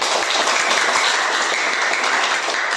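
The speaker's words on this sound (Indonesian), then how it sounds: "Beri aplaus untuk kita semua." A classroom of students applauds together, dense steady clapping from many hands at close range, sustained evenly throughout with no talk.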